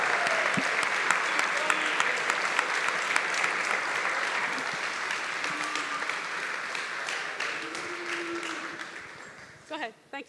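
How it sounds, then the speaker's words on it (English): Steady applause from an audience at a school athletic awards ceremony, sustained and dense for about ten seconds with a few voices over it, tapering off at the very end. "A big round of applause as they go to represent Westport at their college in the fall."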